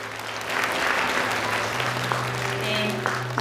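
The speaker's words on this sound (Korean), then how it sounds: "박수 한번 보내주시겠습니까?" Audience applause fills a hall at a Gyeonggi provincial parent education participation conference, steady and sustained, with a low hum running underneath throughout.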